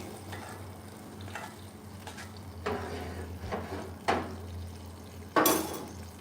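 Steak sizzles on a hot BBQ grill with a continuous low hiss, interrupted by several sharp scraping and clanking bursts from metal utensils against the grill grate; no voices.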